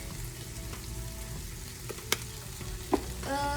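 Steak and vegetables fry in a pan with a steady low sizzle, broken by a few sharp scrapes and clicks of a utensil stirring them.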